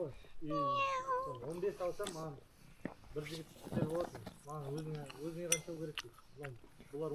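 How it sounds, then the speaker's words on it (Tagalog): A cat meows several times at a restaurant table while people talk over a meal of duck and chicken, with clinking cutlery and dishes nearby; the meows are close and mixed in with steady conversation. "May pusa. May pusa."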